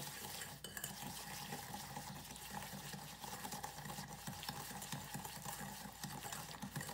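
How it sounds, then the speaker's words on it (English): A whisk beats lemon juice and other ingredients into a paste for peach crumble bars, making a steady, rapid, faint rhythmic scraping and clicking against the bowl throughout. "And we're gonna whisk that. And it'll get like a paste kind of."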